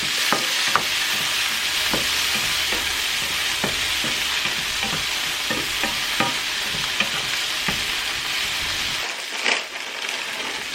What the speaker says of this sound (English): Now I'm going to add tomatoes and green onions. And I'm going to cook that for just a few minutes.